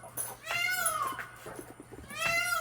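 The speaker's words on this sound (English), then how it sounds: "And that lovely noise would be my neighbor's peacocks." Peacocks belonging to a neighbor give two loud, wailing, meow-like calls, the first long and drawn out and the second starting near the end, outdoors with no talking.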